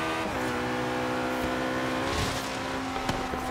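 A McLaren P1 in Forza Horizon 3 accelerates hard down a straight, its engine pitch climbing steadily in a loud, close whine that briefly dips between gear shifts.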